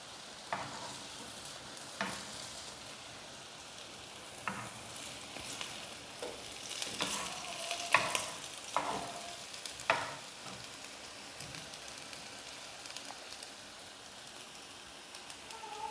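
Sweet potato pieces frying in oil for a mini cake, a soft steady sizzle close by, broken by occasional stirring clinks and small pops, with no talking.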